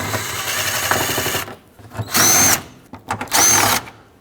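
A power tool runs down the top radiator bolts on a 2007-2009 Saturn Aura: a steady whir at first, then two short, loud, high-pitched bursts separated by brief pauses, close up.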